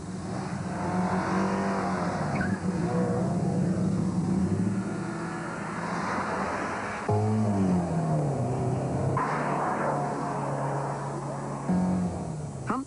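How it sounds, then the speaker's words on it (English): A Ford Sierra road car is driven hard around a track corner, its engine droning loud and close with shifting revs and gear changes as it slides through the bend. "Hunt is trying to be neat as he slides the car around the corner"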